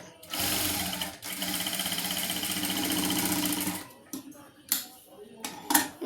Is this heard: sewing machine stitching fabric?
yes